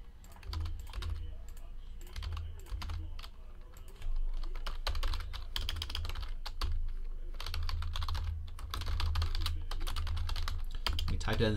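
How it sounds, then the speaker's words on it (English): Quick bursts of typing clatter on a computer keyboard while entering text into a chat, irregular clusters of key taps close by over a low steady background hum. "Let me type that into the chat so it's official."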